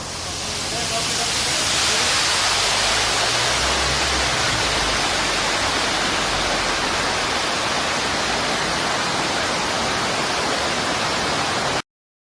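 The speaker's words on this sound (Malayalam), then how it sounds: "സുരക്ഷാ മുൻകരുതലിന്റെ ഭാഗമായിട്ടാണ് പൊന്മുടി അണക്കെട്ടിന്റെ രണ്ടാമത്തെ ഷട്ടർ ഞായറാഴ്ച വൈകിട്ടോടെ ഉയർത്തിയത്" Water gushes through the raised second shutter of Ponmudi dam after heavy northeast monsoon rain, a loud, steady roaring rush that fills the whole clip before cutting off abruptly.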